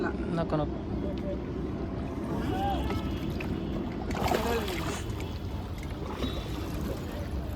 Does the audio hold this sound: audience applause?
no